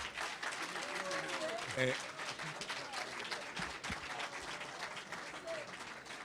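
Audience applause at a 2018 political debate in Trenton, a broad steady wash of clapping lasting several seconds, with a voice calling out briefly near the start.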